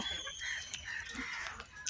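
Free-range desi (native) chickens around a feed mix with turmeric, clucking steadily at moderate distance over a continuous background hum, with a few scattered sharper calls and no talk.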